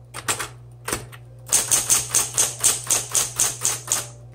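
Typing on a 1960s Smith-Corona Coronet Automatic 12 typewriter. A few scattered key strikes lead into a steady, even run of sharp, close, mechanical clacks, with no voices.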